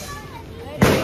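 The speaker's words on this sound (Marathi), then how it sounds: "आम्ही आलो परत फटाके फोडायला" A single sharp firecracker bang goes off at an open ground during Bhaubeej celebrations near the end, loud and close, after a stretch of talk and background murmur.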